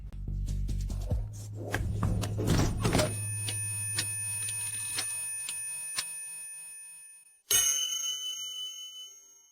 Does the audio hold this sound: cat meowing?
no